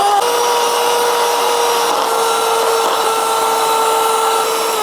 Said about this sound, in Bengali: তারপর একটা বিটার মেশিন দিয়ে চিনির গুঁড়া এবং